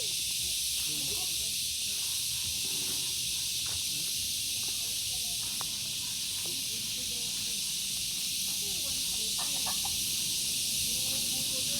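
Chickens at a coop on a farm in Tagaytay cluck and squawk intermittently against a constant loud hiss of insects or background noise, with faint voices in the distance.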